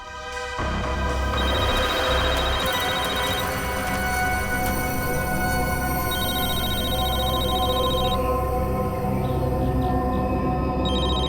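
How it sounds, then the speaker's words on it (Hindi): A phone rings in a steady repeating electronic tone, loud and continuous throughout, with no voices. "उसे फोन रिंग हो रहा है।"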